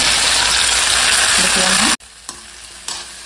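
Taro stalk being stir-fried in a wok, giving a loud, steady sizzle for about two seconds that cuts off abruptly, followed by quieter scraping and clattering.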